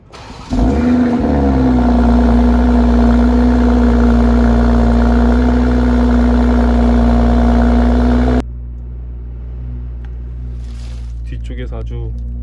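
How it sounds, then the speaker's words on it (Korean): A BMW X4 M40i engine cranks and roars to life, then settles into a steady, loud idle hum before dropping abruptly to a quieter low rumble as revs fall from 1200 to 800 rpm. "제가 운전석에서 한번 시동 한번 걸어볼까요? 소리 한번 잘 들어보세요."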